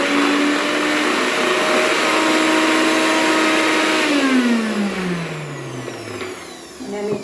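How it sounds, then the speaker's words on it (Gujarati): A kitchen mixer grinder runs steadily, whirring as it grinds soaked urad dal with maize and gram flour into batter for vadas, then its motor pitch slides down as it winds to a stop. "આ બધું ત્રણે ભેગું આપણે મિક્સરમાં પીસી લઈશું"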